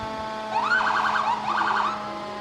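A fire truck siren wails past during a parade, two loud rising-and-falling sweeps over a steady hum of traffic and crowd.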